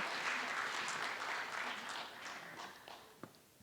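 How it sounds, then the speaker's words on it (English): Applause from the audience at a student awards ceremony, a full round of clapping that gradually thins and fades out, with one last stray clap near the end. "let's give one final round of applause to all the talented students we've awarded this evening"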